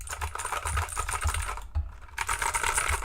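Someone types quickly on a wired mechanical keyboard with loud switches. The close, dense clicking runs steadily with one brief pause midway.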